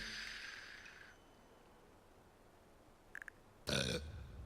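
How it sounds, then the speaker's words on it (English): Cartoonish burp in Two Point Hospital, one short loud belch near the end, following a faint hiss and a brief chirpy blip. "There's nothing like a burp."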